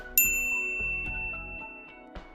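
A bright notification bell dings once, sharp and clear, then rings out with a shimmering metallic decay that fades slowly over the next two seconds, with a faint soft tap near the end.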